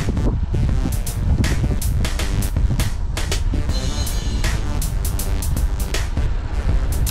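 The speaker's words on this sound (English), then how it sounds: "wind just pounding us from in our face and from the right. southeasterly wind." Strong southeasterly wind batters cyclists riding in an echelon, a loud, steady roar of buffeting gusts across the microphone throughout, with no speech.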